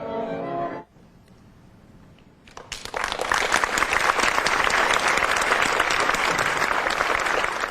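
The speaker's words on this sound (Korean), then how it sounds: "그의 동작 하나하나에 청중들이 힘찬 격려의 박수를 보낸다" Audience at a university symphony orchestra concert breaks into loud, sustained applause after a brief quieter moment, the clapping dense and steady to the end.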